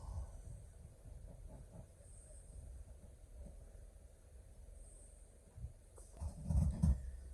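Southeastern-style commuter train pulling away from Woolwich Dockyard station on the Cannon Street to Ramsgate line, a low steady rumble and hiss that swells into louder heavier rolling near the end.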